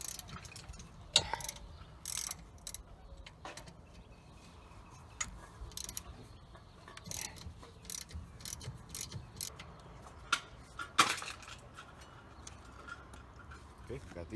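A ratchet works on the brake caliper bolts of a Nissan Altima, quiet irregular clicks and metallic taps close by, with someone speaking briefly over the work.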